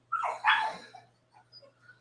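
A dog whimpers and gives a couple of short yelping barks indoors, sharing a room with a rabbit for the first time; two close, loud cries at the start are followed by fainter whines and yips.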